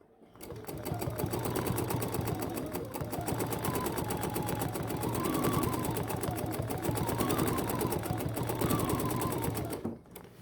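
A BERNINA sewing machine with a stitch regulator stitches steadily and rapidly for about nine seconds, its close, even needle clatter humming without pause and with no one talking.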